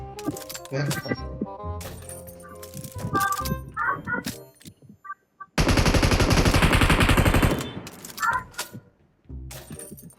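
Gunfire in a PUBG game session, with sharp cracks and a dense rapid burst of shots, set among game effects while someone talks excitedly over the action.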